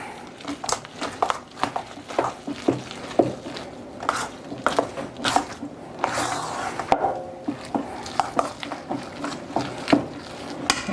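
High-protein white chocolate macadamia cookie dough being mixed by hand in a bowl, giving irregular soft thuds, scrapes and squishy knocks, close and moderately loud, with no talking.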